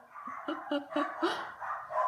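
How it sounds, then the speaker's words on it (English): Dogs bark repeatedly and close by, a quick run of sharp barks followed by a few more spaced yelps. "The dogs are barking."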